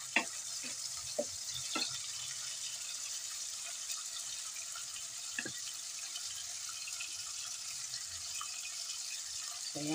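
Chop suey with chicken gizzards frying in a pan, a steady sizzle running throughout with a few brief clinks and stirring knocks near the start.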